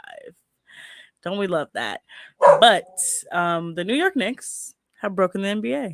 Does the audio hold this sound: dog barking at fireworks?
yes